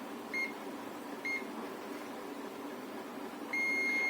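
A multimeter continuity buzzer beeps while testing a transistor on a Studiomaster amplifier board: two short, faint beeps followed by a steady, sustained tone over a low background hum.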